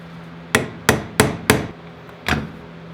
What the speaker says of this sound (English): We're going to use a flathead screwdriver and a hammer.